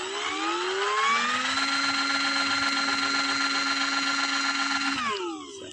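An electric sea scooter water bike from Wuxing Factory, the 2023 Aquaskipper model, runs its motor at steady speed in a close, loud, high-pitched electric whine with harmonics, then winds down sharply near the end.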